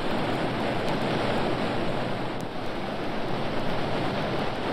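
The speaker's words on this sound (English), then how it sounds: "Listen, that roar. Is it a waterfall?" A steady, full-bodied roar of a waterfall fills the air without a break, loud and broadband like rushing water heard from close by, with no voices.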